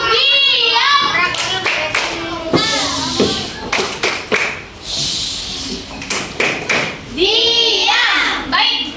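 Schoolchildren in an Indonesian classroom clap through the 'tepuk diam' routine, bursts of sharp rhythmic hand claps mixed with chanting young voices, loud and close, with a teacher speaking between the patterns.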